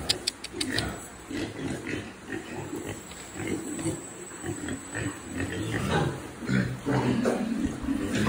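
Ca Mau breed pigs oink and grunt in a pen, a steady jumble of close snorts and squeals with people talking over them.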